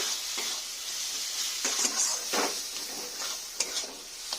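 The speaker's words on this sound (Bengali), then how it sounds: "দিয়ে আমি সব উপকরণগুলো ভালো করে নিয়ে নেব, ভালো করে একটু কষে নেব।" Spices and ingredients for mutton dry being stir-fried in a pan, a steady sizzle broken by several louder scraping strokes of the spoon, close and alone with no talk.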